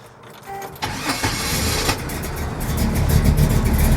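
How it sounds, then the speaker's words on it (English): A 1968 Chevrolet El Camino V8 with Edelbrock aluminum heads, intake and carburetor cranks briefly, catches, and settles into a loud, rumbling, slightly uneven idle close by. "We'll start her up."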